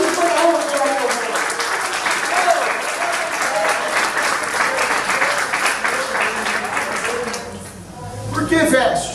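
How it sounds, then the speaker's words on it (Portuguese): A church congregation breaks into loud, sustained applause that fills the room, steady clapping continuing for several seconds before dipping briefly and swelling again. "dá uma salva de palmas para aquele que merece, aquele que é digno de toda honra, glória e adoração"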